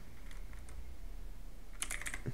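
Keys tapped on a computer keyboard while setting up a PC network connection: a few faint clicks early, then a quick close burst of several keystrokes near the end, with no talk.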